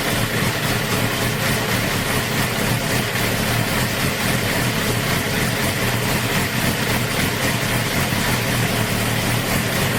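A 2008 Suzuki GSX-R 750 motorcycle engine idling while being warmed up, giving a steady, loud, dense mechanical rumble that stays constant throughout with no voices.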